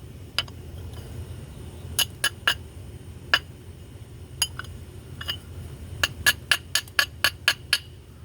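Glass bottle bottom being knapped along its edge: sharp, bright clicks and ticks struck at irregular intervals, quiet between strikes, coming in a quicker run toward the end.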